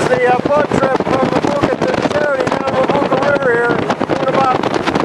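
A jungle river boat in Guyana runs at speed with a loud, continuous engine drone and heavy wind buffeting the microphone, and a voice talks over it throughout.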